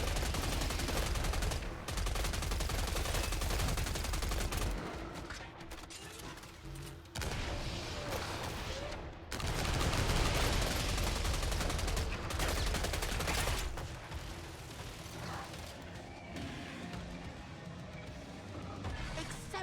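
Automated turret in the video game Killing Floor 3 fires sustained bursts of loud gunfire, dense and continuous with brief lulls, alongside booming impacts and mechanical clatter.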